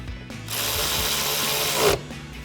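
A ratchet wrench tightening a ground bolt during a running-board install on a Toyota Tundra, a steady rapid clicking whir lasting about a second and a half, close and fairly quiet.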